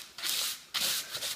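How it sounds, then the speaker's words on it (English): Sandpaper rubbed over the trimmed bristles of a 1-inch synthetic paint brush, two close, soft, hissing strokes with a short pause between them. "So I do find sandpaper a better way of just smoothing"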